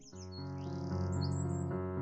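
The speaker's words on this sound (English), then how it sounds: "The sound of chirping birds, a sound that brings me" Birds chirp in the Fallstreak video game at sunrise, high bright calls scattered over a steady, loud ambient music bed, with no talking.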